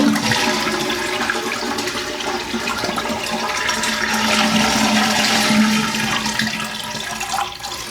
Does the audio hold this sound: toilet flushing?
yes